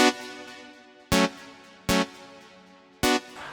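A Nexus synth on its normal preset plays a harsh, lead-like arpeggio: four bright, punchy chord stabs at uneven intervals, each ringing out with a decaying tail, loud and alone.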